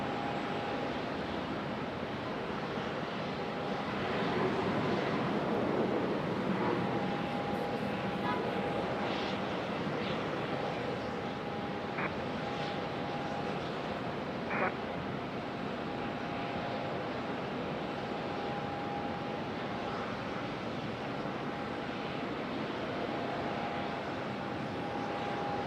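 An Aeromexico Connect airliner sits at an airport, its engines giving a steady, moderate jet rumble and whine throughout, with a voice talking intermittently over it.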